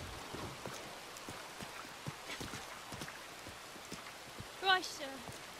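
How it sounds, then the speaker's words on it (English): Steady soft rain falling in the western game RedM, a faint continuous patter with light scattered drops and a brief louder sound near the end. "Let's get you out of this rain. It's dreadful."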